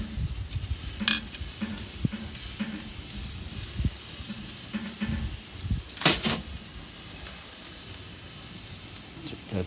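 Flank steak on a Louisiana Grills Kamado, a soft steady sizzle and hiss with a couple of louder bursts as the meat is flipped, close by, with a voice speaking in between.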